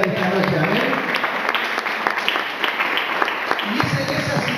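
A church congregation claps during an evening service, a busy run of many hands with sharp individual claps standing out, while voices and cheering carry underneath throughout.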